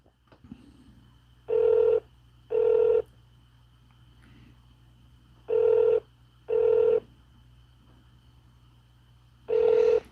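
A telephone call rings out, with five evenly spaced ringback tones in pairs over a faint steady hum, each tone lasting about half a second, clear and alone with no talking.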